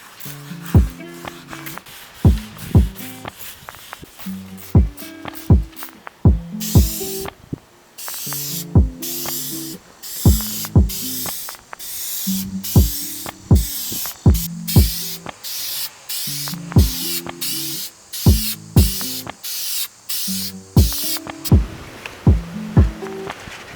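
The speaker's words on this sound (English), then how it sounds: "we're going to try to spray the clear coat" Repeated hissing bursts of clear coat spray paint over a rust repair on a Mazda NB Miata, each a few seconds long with short pauses between, loud and close over a steady repeating low background pattern.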